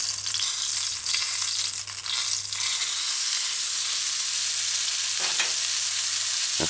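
A fish patty frying in a pan gives a steady close sizzle and hiss throughout, with a few brief louder crackles and spatters partway through.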